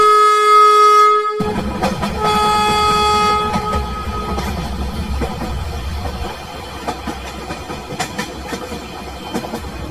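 A cartoon train pulls into a station, sounding a loud tonal horn blast at the start, followed by a rumbling, clattering run of wheels and carriages that gradually settles.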